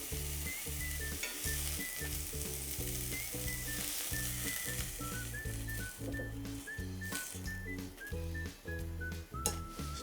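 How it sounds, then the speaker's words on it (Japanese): Ground meat frying in a frying pan already used for the garlic, a constant close sizzle and spatter with small bursts of crackle, heard alone without talk. "同じフライパンで構わないのでひき肉入れて"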